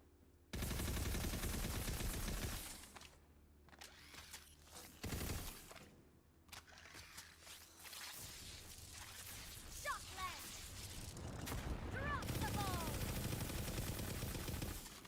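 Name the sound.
SMG gunfire in the video game Tiny Tina's Wonderlands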